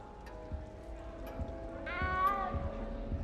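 A cat meows in the video game Hogwarts Legacy, one clear drawn-out meow in the middle with a low steady game ambience and faint footstep-like thumps around it.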